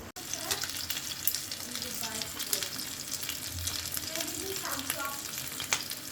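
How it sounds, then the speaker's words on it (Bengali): Rohu fish fries in a pan with a steady, close sizzle that runs throughout, with faint voices and a little clatter in the background. "আমাদের এখন মাছ ভাজা হচ্ছে।"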